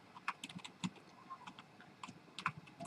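Code is typed on a computer keyboard in a quiet room, a run of soft, close key clicks in uneven bursts with short pauses between them.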